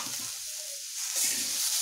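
Corn kernels frying in a pan give a soft, steady sizzle with faint stirring scrapes, close by and quiet, with no talking.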